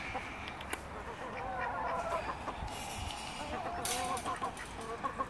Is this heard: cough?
no